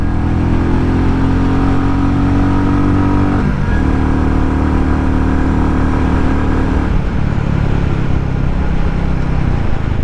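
A 2022 Royal Enfield Classic 350 single-cylinder motorcycle engine revs up through its range, loud and close, with rising pitch sweeps that drop back and climb again, no talking.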